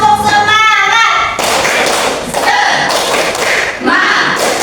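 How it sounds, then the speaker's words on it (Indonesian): A classroom of standing students performs the tepuk semangat chant, loud rhythmic group clapping with sharp thuds and voices chanting along throughout. "Punya ya, tepuk semangat. Tepuk semangat."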